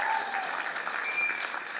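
An audience in a theatre claps for a drama school play's crew, a brief, steady burst of dense applause throughout.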